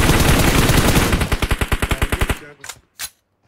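Rapid automatic gunfire from PUBG Mobile plays loud and dense, then breaks into a steady burst of distinct rounds before trailing off into a couple of separate shots.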